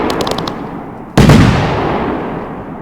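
Fireworks crackle in the Firework Simulator video game, first a spray of small pops, then a sudden loud boom that fades into a long rumbling crackle.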